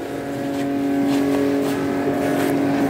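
A 1957 DMW Dolomite engine runs steadily nearby, a continuous buzzing hum with a faint pulsing rhythm, rising slightly in loudness and heard alone.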